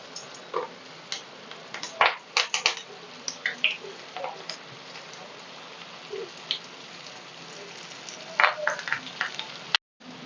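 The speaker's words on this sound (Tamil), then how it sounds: "இப்போ எண்ணெயில் போட்டுடலாம்." Lady finger pakoda frying in hot oil, a soft sizzle with scattered crackles and pops, some louder bursts of spattering, and a brief clatter near the end.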